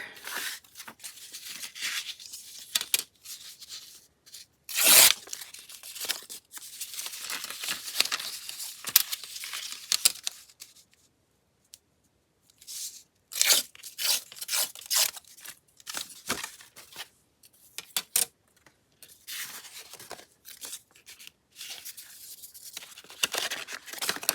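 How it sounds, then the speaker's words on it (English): Paper being torn along a tear ruler for a papercraft project, heard as a series of short ripping and crinkling bursts that start and stop close by, with a brief quiet gap midway and no talking. "Let's use our tear ruler."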